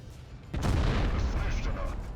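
A single heavy tank cannon blast booms in WoT Blitz, a sudden loud report followed by a long rumbling roar.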